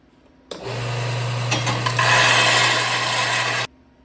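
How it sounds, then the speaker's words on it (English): A powered disc sander grinds a small bevel along the edge of a metal chassis part for a race car roll cage, a steady abrasive rasp over a constant motor hum lasting about three seconds, starting and stopping abruptly. "We're going to put a small bevel around the edge."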